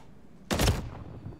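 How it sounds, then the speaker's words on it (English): A single burst of gunfire in Call of Duty Modern Warfare 3, a short loud blast of a few rapid shots lasting about a third of a second, then quiet game ambience. "I want you to shoot me in the chest and count how many bullets it takes to kill me"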